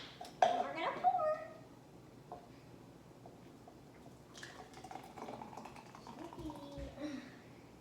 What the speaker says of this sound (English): And we're gonna pour.